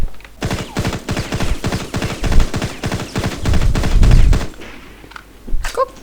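Rapid SMG fire in the online shooter InZone Online, loud and close, with dense bursts of rattling shots for about four seconds, then a sudden stop and a couple of faint clicks in near silence.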